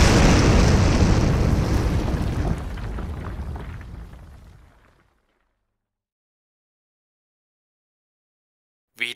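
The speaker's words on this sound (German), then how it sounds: "zerriss ihn die Explosion." A heavy, roaring blast rumbles loudly and slowly fades away over several seconds into silence.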